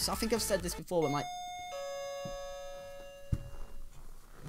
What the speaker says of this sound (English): That's my doorbell.